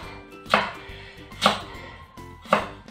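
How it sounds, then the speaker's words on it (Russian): A knife chops through firm pumpkin flesh onto a board in three evenly spaced strokes, each a sharp, close thud followed by quiet. "И теперь мне нужно ее нарезать на небольшие кубики."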